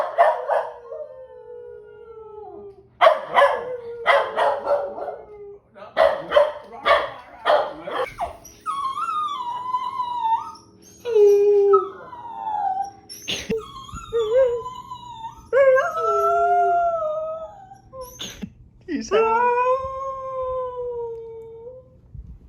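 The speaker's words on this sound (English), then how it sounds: "a lovely video of me training my dog how to howl" A pet dog howls in long, wavering wails mixed with short barks, starting with sharp yelps and moving into sustained rising and falling howls, close and loud with no talking.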